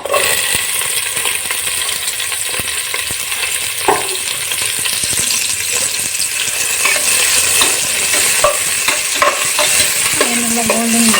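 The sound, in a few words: onions frying in hot oil and ghee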